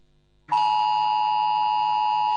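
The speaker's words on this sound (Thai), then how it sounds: "นี่คือเสียงแจ้งเตือนที่เราใช้ทดสอบเตือนภัยผ่านเซลล์บรอดแคสต์" After a half-second of quiet, a loud, piercing cell broadcast emergency alert test tone starts abruptly and holds steady at one pitch with a harsh, buzzy edge.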